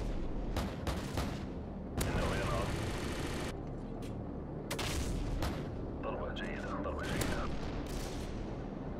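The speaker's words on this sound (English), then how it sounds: "Friendly AC-130 in the air." AC-130 gunship firing in Modern Warfare 2 Remastered, loud heavy cannon booms and rapid bursts of gunfire in repeated volleys, with a voice talking over the barrage.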